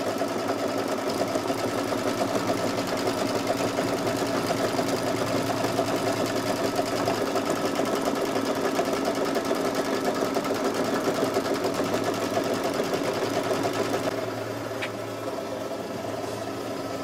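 An embroidery machine stitches a Halloween spider-web placemat, giving a steady, fast mechanical whir and needle chatter that runs continuously and close, then eases slightly near the end, with no talk.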